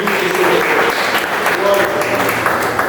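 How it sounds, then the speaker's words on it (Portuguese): A church congregation applauds during an evening service held in a garage, with dense, steady clapping throughout and a voice faintly underneath. "E mais uma vez aplaude o nome do Senhor Jesus para louvar."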